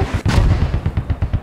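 Loud, close gunfire from the Squad military shooter game cracks out in a rapid string of sharp shots, with one heavier blast near the start followed by quick, evenly spaced reports.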